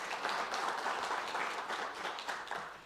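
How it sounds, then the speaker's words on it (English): Steady, fairly faint applause from a conference audience welcoming a speaker named Lucy, with a dense texture of many hands clapping that carries on evenly throughout. "please give a warm round of applause for Lucy"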